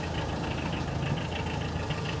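An old vehicle's engine runs steadily in reverse gear, a close, even mechanical hum and low rumble with no talking.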